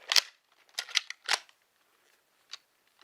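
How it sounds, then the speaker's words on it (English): A Dart Zone Pro Mark II foam dart blaster fires in sharp, close snaps: a burst of several quick shots, then a lone shot after a pause. "Alright, we have the Mark II firing Dart Zone."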